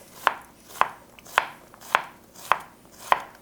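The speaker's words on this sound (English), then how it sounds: "we're gonna use a half of a yellow onion and dice that up" Knife chopping a yellow onion into fine dice on a cutting board, six crisp, evenly spaced chops about half a second apart, close and alone with no talking.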